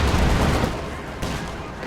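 Gunfire and explosions in Company of Heroes 2 as a Sherman tank fires high-explosive shells, a dense, loud rumble of blasts and shots with a sharper burst partway through.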